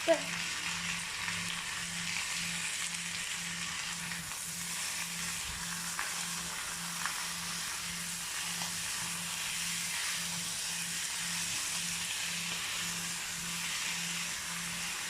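Potatoes and chorizo sizzle steadily in a frying pan, a soft, continuous hiss with faint crackles holding even throughout, close and fairly quiet with no talking.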